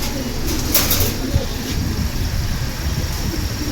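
Pigeons in a loft coo softly amid a dense, noisy background of flock sounds and rustling, with the soft calls blending into the steady clamour.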